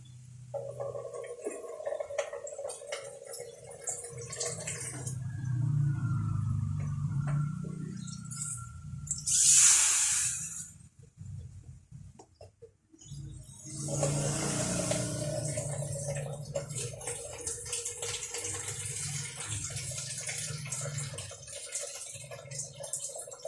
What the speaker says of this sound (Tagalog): Lagyan muna natin ng tubig para malambot yung karne.